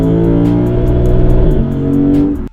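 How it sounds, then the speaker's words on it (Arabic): A Lexus V8 rated at 472 horsepower, the same engine as the LC 500, revs hard in a loud, close, sustained roar with a rich harmonic drone. The pitch shifts briefly midway, then the sound cuts off abruptly at the end. "صوت ال V8 تبع اللكسوس مخيف"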